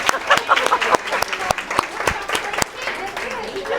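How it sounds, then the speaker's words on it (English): An audience claps loudly at a celebration event, a dense patter broken by several sharp, close claps, with voices cheering and talking underneath. "give them a big clap, everybody"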